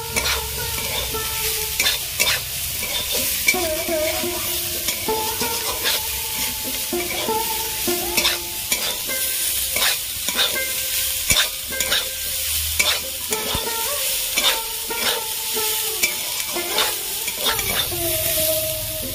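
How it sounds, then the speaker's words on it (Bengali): Green peas stir-fried in oil in a pan, a busy sizzle broken by frequent rhythmic scrapes and taps of a spatula against the metal over about twenty seconds, close and loud, no voices. "এবার আমি মটরশুঁটিগুলো দিয়ে দেবো।"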